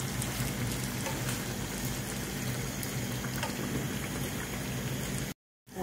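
Sfenj dough fries in a pan of very hot oil, a steady close crackling sizzle that runs unbroken before briefly cutting out near the end.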